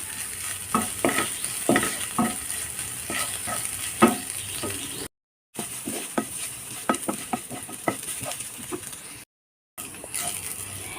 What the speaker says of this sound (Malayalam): ഇനി ഇതിലേക്ക് ഉണക്കമുളക് ചതച്ചെടുത്തത് ഇട്ട് കൊടുക്കാം. നന്നായിട്ടൊന്ന് മൂപ്പിച്ചെടുക്കാം.